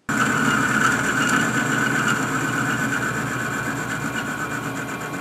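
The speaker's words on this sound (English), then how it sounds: "the lathe is cutting like it's supposed to" A metal lathe bores out a pulley for an Atlas horizontal milling machine, giving a steady, close mechanical hum with a constant whining tone that holds evenly throughout.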